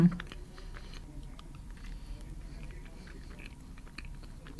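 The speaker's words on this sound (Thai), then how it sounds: "ได้เวลาชิมกันแล้วค่ะ" Close, steady chewing of a Greek yogurt cheesecake with a salted cracker crust, with soft moist mouth sounds and faint crunches continuing without speech.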